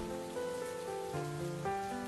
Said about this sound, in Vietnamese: Bên ngoài trời đang có mưa rất to